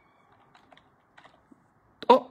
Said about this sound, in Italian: Andiamo su Google, digitiamo Tedros